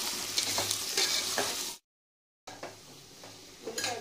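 Chicken frying in hot oil with curry leaves while being stirred in a pan, a loud crackling sizzle with scraping stirs, broken by a short silent gap before the sizzling resumes.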